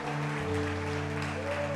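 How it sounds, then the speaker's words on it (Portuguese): A church congregation claps at the close of a worship service, a dense continuous patter of many hands heard over a sustained tonal hum from music or the sound system, with no speech breaking through. "Dê mais uma forte salva de palmas ao Senhor."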